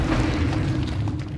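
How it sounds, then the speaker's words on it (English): Grenade explosion in the multiplayer shooter Call of Duty: Modern Warfare II, a deep sustained boom with rumbling low end that fills the whole moment, loud and close with no talk over it. "Did I just kill someone with my nade?"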